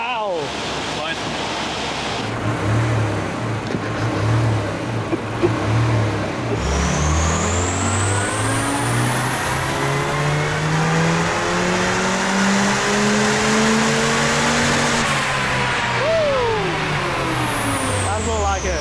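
A turbocharged stock Honda D16 engine running 18psi boost revs hard, its pitch climbing and falling in long sweeps with a rising whine on top, loud and close, with excited voices talking under the roar.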